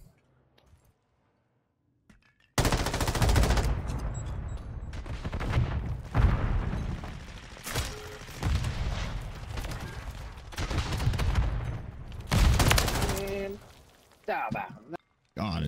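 Panicked rapid gunfire in a video game bursts out after near silence, loud sustained automatic volleys with short gaps, ending in a few scattered shots.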